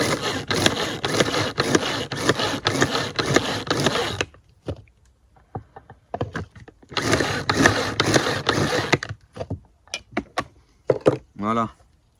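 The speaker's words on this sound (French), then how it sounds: "je mets un peu les plantes dedans et on va les mixer également" A blender mixing nettles and white bedstraw for a wild burger: two loud bursts of whirring, chopping grinding separated by a near-silent pause with scattered clicks and knocks.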